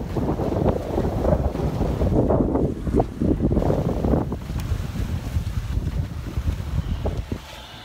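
A sailboat running under sail alone with the engine off, approaching Abraão on Ilha Grande, Brazil; steady wind buffets the microphone over rushing water and wave wash along the hull, loud and continuous with no voices.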